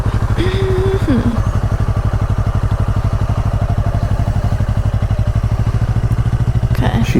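A Honda Rebel 300 motorcycle idles with a steady, close, pulsing thump as the clutch is slowly let out and it rolls off, with a brief whine at the start.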